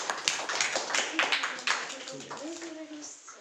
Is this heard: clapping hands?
yes